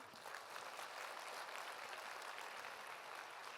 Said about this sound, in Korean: 큰 박수 부탁드려요.